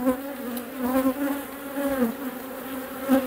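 Honeybees buzz close by in a steady, wavering drone that rises and falls slightly, with no voices present.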